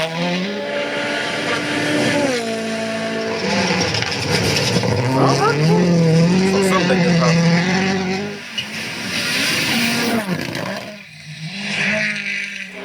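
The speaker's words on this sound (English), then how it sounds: "Muscle cars, man." Rally cars at WRC Rally Sweden 2024 rev hard and race by, loud engine tones rising and falling through gear changes, with people talking over the roar.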